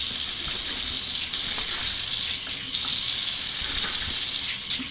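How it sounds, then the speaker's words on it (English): Warm tap water runs steadily from a faucet into a bathroom sink, a continuous close hiss and splash with a couple of brief breaks in the flow. "Soak the face with warm water to soften the beard and skin."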